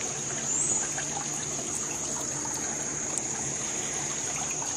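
A small garden waterfall on a deck trickles steadily, a soft continuous splashing close by with a faint high whine in the background.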